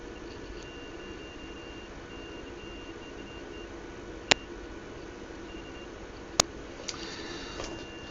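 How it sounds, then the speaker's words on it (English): An ESP32 circuit buzzer triggered through a loose wire gives a faint, steady electronic tone, broken by two sharp clicks as the wire is touched. "And I also hear the buzzer by touching this wire."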